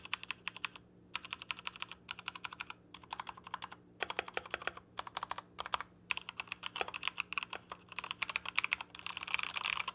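A mechanical keyboard costing under $40 clacks in fast, irregular bursts of crisp keystrokes with brief pauses, close and clear against a quiet background.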